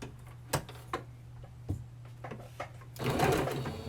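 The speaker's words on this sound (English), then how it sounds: "I'm gonna sew from this edge all the way on the top, this little curve here" A sewing machine stitches fabric along a curved edge, sounding as sharp, spaced ticks and short runs, then a louder burst of fast stitching at the end.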